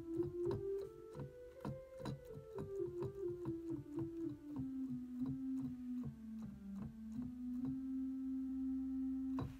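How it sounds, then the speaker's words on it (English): A pipe organ's soft celeste stop plays a slow descending melody, gently wavering, with quiet mechanical ticks in the background and no speech. "A very soft Celeste."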